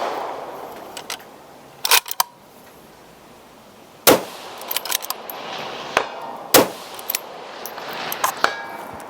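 An MDT polymer magazine being fitted to a PRS rifle: a few sharp, close clacks and clicks spaced a couple of seconds apart over a quiet outdoor background.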